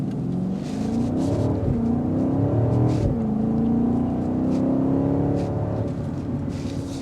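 A 2025 BMW X7 M60i, a heavy three-row SUV, accelerates hard from 0 to 60, its engine note climbing steadily through two gear changes, loud and continuous with no talking.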